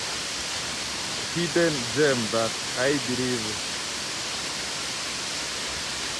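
Waterfall at Eldama Ravine in Baringo County, a steady broadband roar filling the whole stretch at even loudness, with someone speaking briefly over it near the middle.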